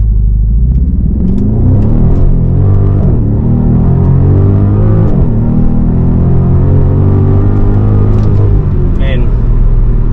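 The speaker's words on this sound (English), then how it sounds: "So I'm going to do kind of a hard launch here" A 2018 BMW M550i xDrive launches hard from a standstill on a wet road, its engine rumbling and building steadily beneath someone talking throughout.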